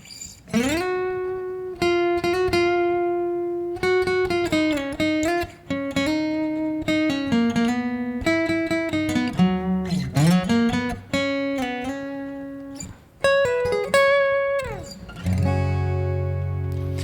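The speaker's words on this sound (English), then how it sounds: "loop the beginning chord progression with and simply play the little lead part over the top" Layered guitar chords ring in a steady loop while a brighter lead line weaves melodically over the top, close and clear with no talking.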